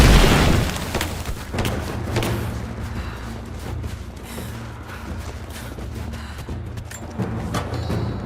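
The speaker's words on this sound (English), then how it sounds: "Throwing a grenade!" A grenade detonates in the Rise of the Tomb Raider video game: a loud, close boom opens, then a long rolling rumble follows with scattered crackles and sharp mechanical clicks layered on top.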